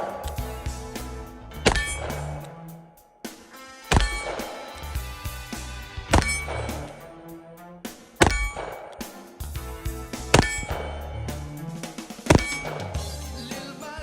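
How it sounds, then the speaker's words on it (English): Metallic clanks and clicks as .357 Magnum cartridges are loaded into a Smith & Wesson Model 327 Performance Center eight-shot carry revolver, several sharp separate hits over a low background hum, close and fairly loud. "So I'm going to go ahead and load it up with some Magnum loads now"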